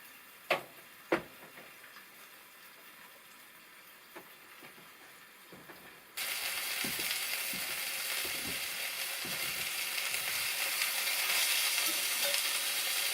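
Venison steaks frying in a small pan at an off-grid log cabin: a couple of sharp clicks, then a loud steady sizzle that starts abruptly and keeps building, with no talk.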